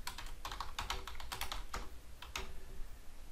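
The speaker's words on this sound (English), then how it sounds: "I'm going to type in the values that I want" Rapid keystrokes on a computer keyboard, a close run of crisp clicks with brief pauses, entering values into a list, with no voices.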